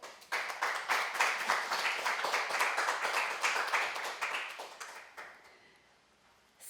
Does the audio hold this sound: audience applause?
yes